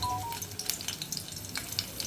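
Green chillies, garlic and onion fry in a pan for restaurant-style veg noodles, a steady close sizzle with light crackles and faint stirring.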